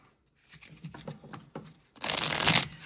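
Tarot cards are handled with a few soft taps and slides, then riffled in a quick, dense shuffle burst near the end, close by and with no talking.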